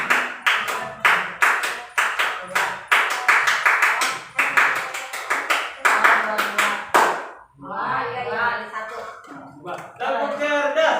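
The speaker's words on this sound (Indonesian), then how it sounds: "mari kita coba tepuk cerdas" A group of teachers and participants at a school positive-culture session perform the rhythmic 'tepuk cerdas' clapping chant, sharp patterned claps in short bursts alternating with chanted voices, then breaking into talk and more clapping toward the end.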